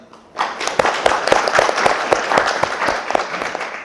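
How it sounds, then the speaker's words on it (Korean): An audience at a public housing district briefing session breaks into applause, a sudden burst of many hands clapping that stays full and steady for several seconds, close and fairly loud. "큰 박수와 함께 위원장님 모시겠습니다."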